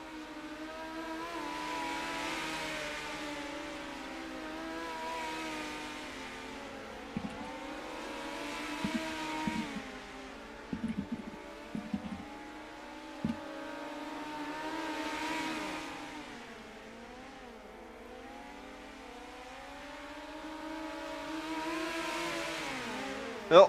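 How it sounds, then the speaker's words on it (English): Dirt midget race cars run hot laps on a dirt track, their engines droning and revving in steady waves as cars pass, with brief sharp bursts and a near roar closing out the stretch. "they got about 6 minutes left here for hot laps. Drivers out on track."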